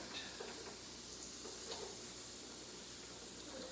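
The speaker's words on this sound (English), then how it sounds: "Flip that baby over. And get a sear on the other side." Pot roast searing in a hot pan, a faint steady sizzle and hiss with a few soft crackles, continuous and quiet throughout.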